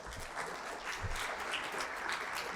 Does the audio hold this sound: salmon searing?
no